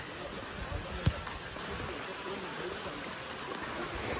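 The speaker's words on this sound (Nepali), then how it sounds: "यहाँ हुँदैछ पानी चाहिँ कतिको परिरहेको छ तपाईँहरूले पनि देखिरहनु भएको छ" Rain falls steadily on a street during an outdoor walkathon, a soft continuous patter with one brief close knock near the start.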